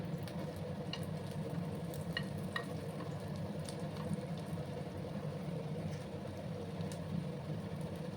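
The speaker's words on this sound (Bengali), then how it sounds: "তিনটাকেও ভেজে নেবো আমি সেম একই প্রসেসে।" Sylheti rujot leaf fritters (bora) frying in oil over a low gas flame give off a steady, even crackle and sizzle, with faint scattered pops and no voices.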